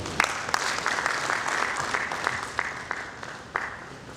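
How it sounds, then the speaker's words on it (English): Audience applause fills a pension industry conference retreat hall in Nigeria, a steady wash of many hands clapping with a few sharper individual claps standing out, sustained throughout at moderate loudness. "Can we clap for the representative of the DG?"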